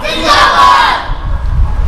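A crowd at a religious gathering roars a collective Allahu Akbar chant in answer to a Takbir call, a loud unified shout that swells over the first second and then fades into murmur.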